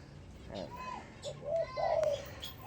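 Spotted dove cooing in a large cage alongside other paired doves, a few soft, low coos close by over a faint background murmur.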